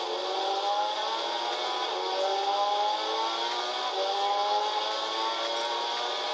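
A 1972 Alpine A110 1600S engine in Gran Turismo 6 drones steadily at high revs, a continuous buzzing whine that shifts slightly in pitch as the car slides on dirt.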